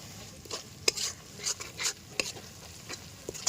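Green chillies are stirred into frying ginger-garlic paste, with a soft sizzle under repeated scraping and clinking spoon strokes against the pan.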